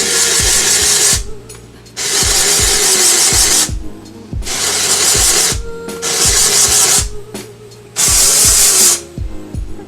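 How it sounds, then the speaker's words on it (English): Dry shampoo sprayed from an aerosol can onto natural heat-trained hair: four loud, hissing bursts of about a second each, separated by short pauses filled with small clicking and rattling handling sounds. "I'm spraying a lot just because I'm always super heavy-handed with my products."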